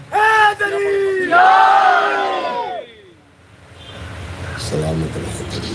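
A Muharram mourning crowd at a Majlis and procession for Imam Hussain raises a loud collective religious chant, Naara-e-Haidari, with drawn-out voices in unison, then falls to murmur and a few scattered calls.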